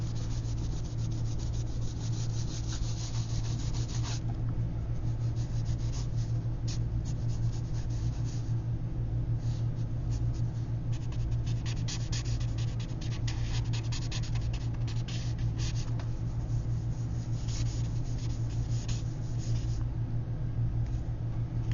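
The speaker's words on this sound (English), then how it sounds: "You can kind of erase some of your guidelines in here." An eraser rubs out pencil guidelines on a paper drawing, a steady close scrubbing and rubbing that runs on without a break over a low constant hum.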